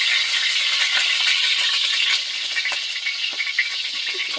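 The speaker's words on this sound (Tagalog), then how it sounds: "Prito mo tayo ng itlog." Steady, bright sizzling and crackling of eggs frying in a hot pan, continuous and close, with small pops throughout.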